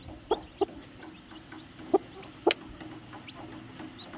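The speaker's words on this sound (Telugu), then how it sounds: "ఇక మన కోళ్ళు ఎట్లా బయట తింటున్నాయి చూడండి" Chickens feeding outdoors on a farm field, several short clucks scattered over a few seconds against a soft outdoor background, fairly near but quiet.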